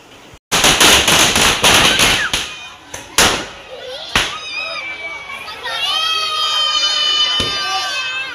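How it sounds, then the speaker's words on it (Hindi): Firecrackers burst during a Dussehra celebration in a loud, rapid cluster of sharp bangs near the start, then a few scattered pops while children shout and play close by. "बम फूट रहे हैं।"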